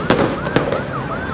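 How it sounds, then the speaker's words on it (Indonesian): Tear gas canisters fired at night at a street protest near Tugu Tani in Jakarta, heard as two sharp bursts, the second louder, over a steady crowd din with wavering siren-like tones. "Berkali-kali lagi dan lagi tembakan gas air mata"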